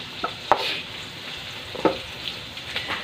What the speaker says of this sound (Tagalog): Light brown ko muna yung ating pork at saka naman natin ilagay ang ating bawang sibuyas.